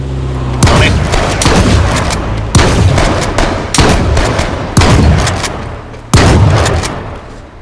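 Gunfire in the video game H1Z1 rings out as five loud, close, booming shots spaced about a second apart, each trailing off in a long echoing decay.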